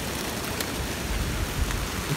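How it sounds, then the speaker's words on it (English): Good-sized hail pelting down outdoors during a hike, a dense, steady, loud patter of hard drops striking the ground and surroundings with no pause, filling the whole moment without any voices. "Yo, dude, there's like good sized hail coming down."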